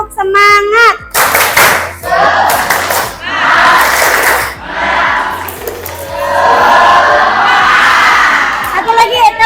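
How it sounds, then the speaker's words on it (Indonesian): A crowd of students at an Indonesian school claps and shouts a rhythmic spirit chant, bursts of synchronized clapping alternating with loud group calls and a leading voice, close and energetic. "Ayo dari tepuk semangat lagi, kemudian SMK."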